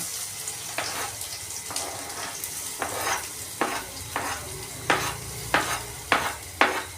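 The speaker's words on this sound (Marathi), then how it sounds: "थोडे लालसर झालं की लगेच कांदा टाकून घ्यायचा हां" Onion sizzles in a frying pan while a spoon stirs it in regular scraping strokes, close and fairly quiet, with no talking.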